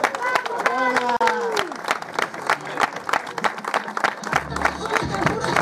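A crowd claps and cheers for the podium of a cycling trophy race at the San Finx mines in Lousame, with dense, sustained applause throughout and voices talking over it.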